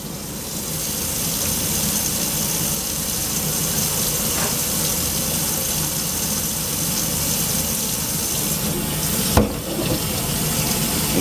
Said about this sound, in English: So run some water in the sink.